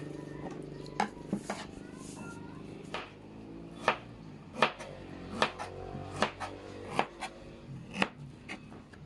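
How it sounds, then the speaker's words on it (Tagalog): A knife chops onion, ginger, calamansi and chili on a board, a steady run of crisp single strokes about one every second, close by, over a faint background with a cat meowing early on. "maghiwa tayo ng kanyang ingredients"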